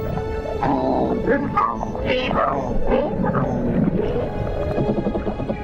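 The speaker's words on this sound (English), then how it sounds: "A dispute amongst the members of the cichlid family. Who is stronger, and especially who is louder?" Underwater grunts, croaks and rumbling knocks overlap in a busy, agitated chorus of cichlid fish fighting, close and fairly loud.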